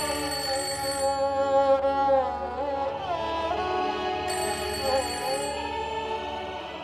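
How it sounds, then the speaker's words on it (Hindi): A telephone rings indoors in a Hindi crime drama, a sustained electronic tone with shifting pitch that carries on for several seconds without talk over it. "रिंग हो रहा है, फोन उठा लीजिए।"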